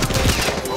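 Rapid gunfire in Call of Duty Black Ops, rounds punching through a wall in a dense, continuous burst that stays loud and close throughout, with a voice faintly present underneath.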